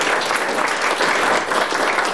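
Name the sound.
audience round of applause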